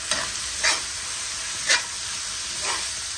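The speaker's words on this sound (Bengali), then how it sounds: "মাংসটাকে ভালো করে কষাবো।" Meat being fried with turmeric, chili, cumin and coriander powder in a pan for an iftar dish, with a steady sizzle and a few louder stirring scrapes spaced about a second apart, close and without speech.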